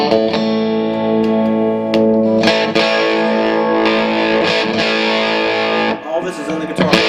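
An electric guitar played through its built-in QDD onboard distortion gives loud, sustained overdriven chords with rich harmonics, ringing steadily for several seconds before a brief choppy break near the end.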